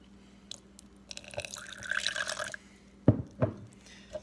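A small amount of apple-flavored liquid is poured into a drink in a glass, a brief trickle followed by a couple of close drips and clinks, with no one talking.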